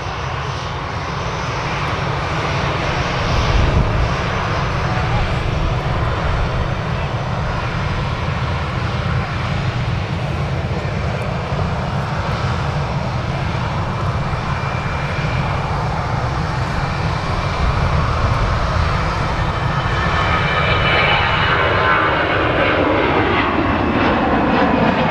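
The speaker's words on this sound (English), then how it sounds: "EasyJet to Geneva is now rolling on the runway as well." An EasyJet airliner rolls down the runway at Manchester Airport for a Geneva-bound takeoff, its jet engines producing a loud, steady, continuous roar that holds for the whole stretch without a break.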